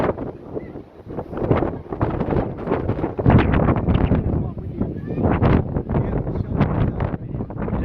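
Strong wind buffets the microphone on the Mount Washington summit deck, a loud, continuous roaring rush with gusting surges throughout and no clear voices.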